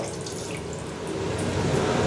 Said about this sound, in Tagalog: Ang ganda na gripo nila, oh